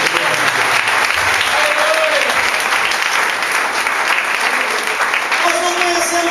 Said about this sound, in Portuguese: Dá uma salva de palmas para poder pegar essa